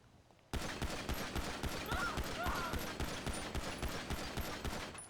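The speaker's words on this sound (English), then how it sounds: "Hey, just shoot that wall until the mag's empty." A magazine is emptied into a wall in a roleplay video game: a loud, sudden stream of rapid gunshots starts after a brief quiet moment and continues steadily at close range, with faint voices underneath.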